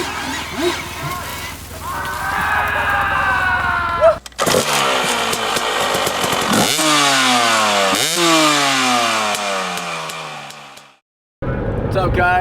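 Dirt bike engine revving and climbing a hill on a trail ride, loud and close, with rising and falling pitch as the throttle opens, a brief drop near the end, and voices mixed in under the engine.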